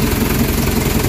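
A Nissan Vanette engine with low power and throttle delay runs steadily close by, a loud low idle with a rapid knocking pulse throughout.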